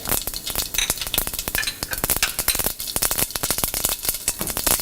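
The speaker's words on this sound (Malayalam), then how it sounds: "ഒരു പാത്രത്തിൽ 2 ടേബിൾ സ്പൂൺ വെളിച്ചെണ്ണ ഒഴിച്ച് ചൂടായ ശേഷം എടുത്തു വച്ചിരിക്കുന്ന കടുകിട്ട് പൊട്ടിക്കുക" Mustard seeds popping and spluttering in hot coconut oil in a pan, a dense, continuous burst of sharp crackles close up with no voices.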